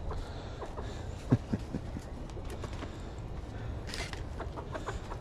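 A few chickens cluck softly around a pond property, with a couple of sharper close clucks early and faint rustling and movement through the rest.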